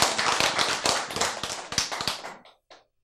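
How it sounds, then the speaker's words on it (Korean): An audience at a religious lecture claps in a burst of distinct, fairly loud hand claps that trails off into a few scattered claps and then quiet. "박수."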